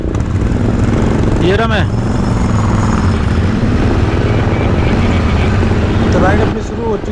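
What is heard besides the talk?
Honda Hness motorcycle engine during ride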